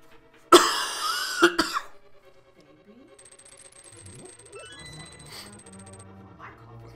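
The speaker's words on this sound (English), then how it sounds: "yours is an allergy cough" A person with an allergy cough coughs once hard, then clears the throat in two quick bursts close to the mic. Quieter indoor sounds and faint tones from a video game follow.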